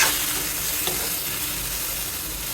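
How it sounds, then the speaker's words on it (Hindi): Vegetable curry cooking in a pan with garam masala and Kashmiri red chilli, a steady sizzle with a faint scrape of stirring, close and alone. "उधर हमारी सब्जी बन रही है"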